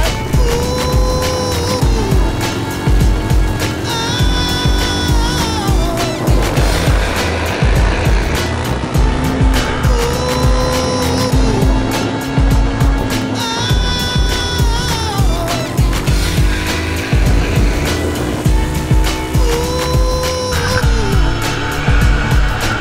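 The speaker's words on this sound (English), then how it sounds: "we're on these ATVs, man" ATVs racing: engines whine and rev loudly and continuously, with repeated rising and falling pitch sweeps as the machines accelerate and pass close by, amid rough, busy outdoor noise.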